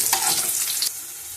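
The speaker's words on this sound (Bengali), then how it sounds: "প্রথমে আলুটা ভালো করে ভেজে নেব।" Medium potatoes frying in hot oil give off a dense, close hiss with crackling bursts that drop suddenly to a quieter sizzle partway through.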